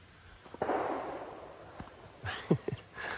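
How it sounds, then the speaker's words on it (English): Distant gunshots from target shooting near an abandoned railway at Ossipee, New Hampshire: a few faint, sharp cracks with echoing tails, spaced irregularly over quiet outdoor background. "Someone target shooting."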